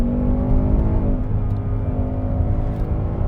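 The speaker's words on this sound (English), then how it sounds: "elemental V8 rumbling soundtrack" A Ford Mustang GT V8 rumbles deeply and continuously, a loud, close, throbbing engine note with steady revs and no talking.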